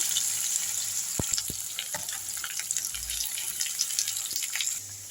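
Onions dropped into hot oil with popped mustard seeds, fennel and ground green chillies for a simple Tamil tomato kuzhambu, sizzling steadily with a few sharp crackles, close and alone.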